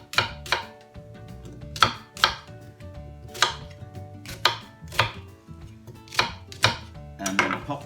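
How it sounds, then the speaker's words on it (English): A knife chops vegetables roughly on a board, with about a dozen sharp, close knocks coming in uneven bursts, and no voices. "Now just chop these up. Just roughly, no particular way."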